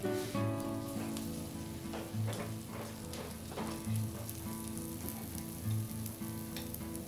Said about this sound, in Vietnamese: Và mình sẽ nướng bánh cỡ 2 phút là bánh của mình vàng ha